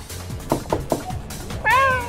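A kitten meows, a short series of soft, close cries followed by one longer, louder drawn-out meow at the end.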